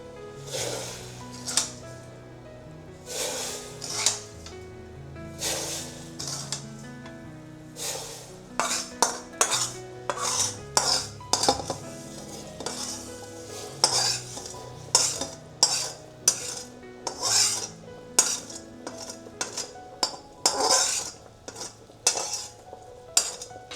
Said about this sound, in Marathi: आता गुळाच्या पाण्याला उकळी आलेली आहे, मी रवा त्याच्यात टाकून देते।